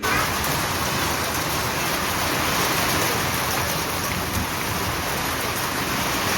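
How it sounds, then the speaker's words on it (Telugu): Heavy rain falls steadily during a village Yellamma Bonalu festival outing, a dense, continuous close-up hiss with no break and no voices. "పొట్టు పొట్టు పడ్డది వర్షం"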